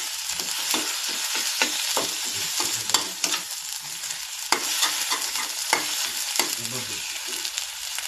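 A vegetable dish fries in a pan while a spoon stirs it, giving a steady sizzle broken by quick scraping strokes that come close and loud at an uneven pace.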